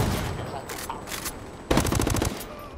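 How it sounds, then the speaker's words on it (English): Bursts of automatic gunfire in Ghost Recon Wildlands, a short rattling volley followed by a louder, dense rapid burst near the end, with players' voices audible around the shots. "Shot him right in the ass."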